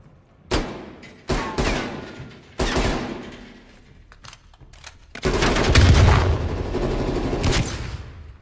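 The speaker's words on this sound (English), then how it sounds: "Shooting at me?" Loud, close gunfire in a Call of Duty Prop Hunt match: several separate sharp shots, then a sustained burst of rapid fire near the end.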